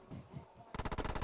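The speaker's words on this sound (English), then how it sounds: "There's the M1014 on the back of Carrillo, the auto shotgun replacement." M1014 auto shotgun fire in PUBG Mobile during the PUBG Mobile World Invitational esports event: after a brief quieter stretch of game ambience, a loud, close, rapid string of about a dozen sharp shots rattles out in quick succession.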